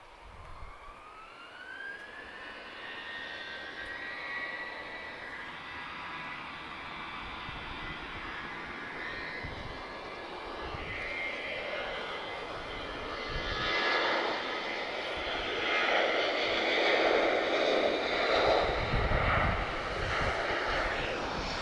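A Ryanair jet airliner departs Lisbon Airport bound for Funchal, Madeira, in evening light; a distant engine whine and roar build steadily louder over about twenty seconds, without talk.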